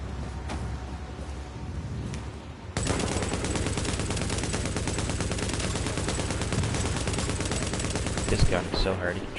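Sustained automatic gunfire in The Division survival mode, a dense rattling burst that jumps louder a few seconds in and keeps hammering steadily to the end, with a voice talking underneath.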